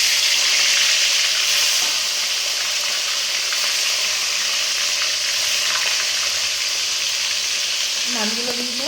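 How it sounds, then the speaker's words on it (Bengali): Fish rubbed with salt and turmeric frying in hot oil, a loud, steady, close sizzle that fills the whole stretch with no talk. "আমি তেলের মধ্যে এবার ছেড়ে দেবো এই মাছগুলোকে সব"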